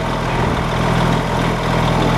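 A truck engine in Farming Simulator 25 idles with a steady, low rumbling drone, loud and close, holding an even throbbing tone throughout.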